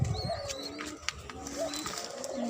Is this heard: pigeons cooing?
yes